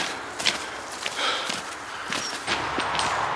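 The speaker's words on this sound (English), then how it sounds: "Here we go, stomping along." Footsteps stomp along a canal walk at a walking pace, thudding unevenly against a background of outdoor noise with a nearby road.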